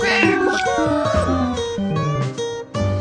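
A cartoonish cat meows repeatedly in the video game Cat Chaos Prankster, with several close, loud meows over busy game music and effects.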